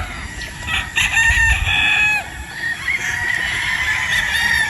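A Boston over sweater gamefowl rooster crows loudly and close by, its long harmonic call rising and trailing off, with other fowl audible in the background.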